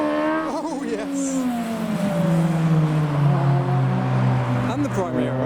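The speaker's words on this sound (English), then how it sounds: "This is going to sound incredible. Hayabusa engine, yes." Nissan Primera fitted with a Hayabusa motorcycle engine revs hard at a drive-by car show, sharp high-pitched rising and falling blips over crowd noise, with people talking nearby.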